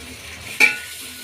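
Onion tossed into hot oil with curry leaves and ginger, a quiet background sizzle broken by one sharp scrape or stir near the middle, close and otherwise steady.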